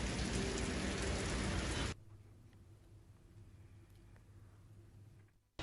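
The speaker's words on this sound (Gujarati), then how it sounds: "અરવલ્લી જિલ્લામાં ગત રાતથી સાર્વત્રિક વરસાદ વરસી રહ્યો છે" Rain falling across Aravalli district, Gujarat: a dense, close hiss of heavy downpour at first, then a much softer, steady patter of rain.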